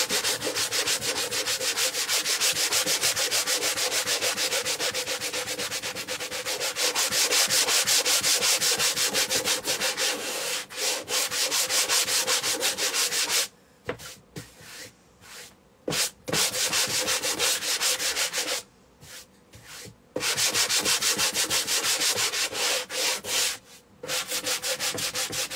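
Wooden planter being sanded by hand for a shabby vintage finish: a continuous, close rasping scrub with rhythmic strokes, broken by a few brief pauses near the end.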